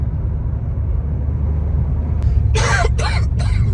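Three harsh coughs in quick succession, close by, over a constant low engine rumble like the inside of a moving vehicle.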